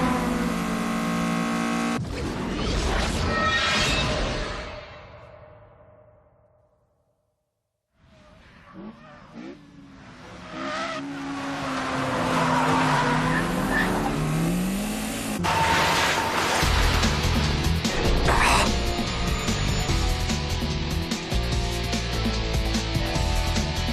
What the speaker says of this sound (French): Mes pneus n'adhèrent plus à la route.